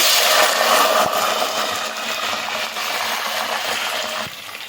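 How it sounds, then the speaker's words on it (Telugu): Washed chicken pieces dropped into well-heated oil in a pan set up a broad, steady sizzle and hiss that holds loud throughout, easing slightly partway, with a couple of faint knocks and no talking. "ఆయిల్ బాగా హీట్ అయిపోయిందండి. ఇందులో మనం ఇప్పుడు కడిగి శుభ్రంగా పెట్టుకున్న చికెన్ వేసేస్తున్నాం."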